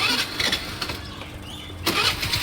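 A vehicle engine cranks and catches nearby, a rough churning burst that dips briefly before the motor roars back to a running rumble.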